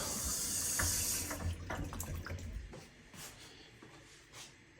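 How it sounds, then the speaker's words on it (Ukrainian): Water runs steadily from a kitchen tap as a bright, hissing stream, with some soft clatter and shuffling nearby. The flow eases after about a second and a half, and quieter dripping and handling sounds follow. "Включаем воду."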